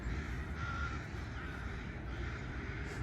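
Crows caw repeatedly in a Japanese garden, clear cries standing out over a steady outdoor hum with no talking.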